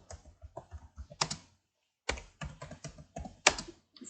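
Close, quiet keystrokes on a computer keyboard while a short memo is typed, coming in quick irregular bursts with a brief pause midway.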